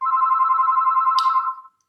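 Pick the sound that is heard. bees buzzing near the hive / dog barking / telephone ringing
telephone ringing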